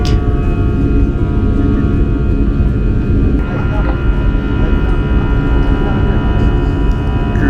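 A Lufthansa Airbus A340 cruises on a short-haul business class flight, with a loud, unbroken cabin roar of engine drone and airflow and steady tonal hums throughout; a subtle shift partway through may mark the flaps retracting.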